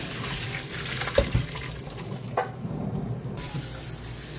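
Tap water runs steadily into a kitchen sink while crayfish are rinsed, a close, even splashing hiss broken by a few knocks and clatters of handling.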